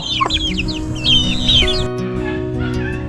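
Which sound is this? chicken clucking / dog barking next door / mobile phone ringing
chicken clucking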